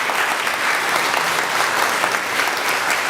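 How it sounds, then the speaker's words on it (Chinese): Church congregation applauding during a Taiwanese-language worship service, a steady, dense wash of clapping that fills the whole moment without breaks. "请您向后转，哈，咱鼓掌"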